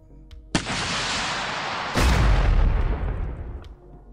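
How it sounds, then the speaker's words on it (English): Rocket launcher weapon sound effect for a Cyberpunk RED tabletop game: a loud sharp launch whoosh, then a heavy booming blast with a rumbling tail that fades out, with no voices. "Rocket launchers."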